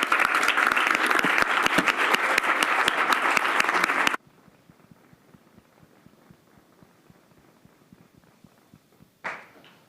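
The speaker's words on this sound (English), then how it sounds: "If we could give them another round of applause." Applause from attendees at a student government senate meeting, a dense burst of clapping for about four seconds that cuts off abruptly, followed by quiet room noise and a brief knock near the end.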